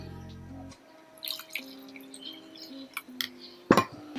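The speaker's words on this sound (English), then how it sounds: "put into bowl and add some water" Water poured and dripping into a bowl during home cooking, with small splashes and a light clink of glass near the end, close and fairly quiet.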